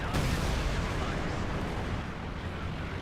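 A quad half track fires anti-aircraft guns at planes in Company of Heroes 2, a continuous dense roar of rapid shots and rumbling battle noise that stays loud throughout.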